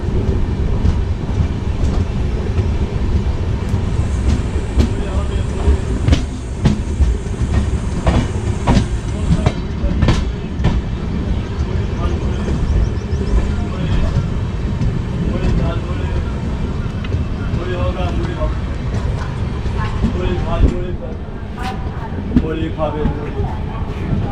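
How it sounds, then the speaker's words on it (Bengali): The Black Diamond Express rumbles steadily into Barakar station with rail clatter and broadband roar throughout, a high whine in the first stretch, and people talking underneath. "ঠিক রাইট টাইমে ব্ল্যাক ডায়মন্ড এক্সপ্রেস বরাকর স্টেশনে প্রবেশ করলো"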